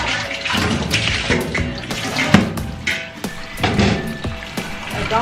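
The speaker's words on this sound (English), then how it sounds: "the first thing you're going to do is just rinse it with hot water." Hot water splashes and gushes as it rinses the bucket and lid of a Capralite goat milking machine, an uneven, close run of pouring and sloshing with clanks of the container, no speech.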